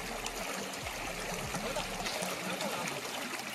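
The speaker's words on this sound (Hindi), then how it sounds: "यार पानी की आवाज़ तो सुन लो यहाँ पे।" Cold, clear mountain stream water flowing steadily, a close, loud, continuous rush and gurgle with no voices over it.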